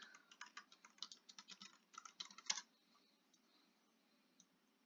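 Quick bursts of typing on a computer keyboard while entering a plugin search in a WordPress dashboard, a dense run of close clicks for about three seconds, then near silence with one faint later tap.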